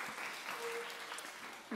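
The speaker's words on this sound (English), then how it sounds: "Let's give Raluca and Joe and Josiah a round of applause" Church congregation applauding to thank guest speakers after a special feature on decluttering the home, steady clapping filling the short stretch with no talk over it.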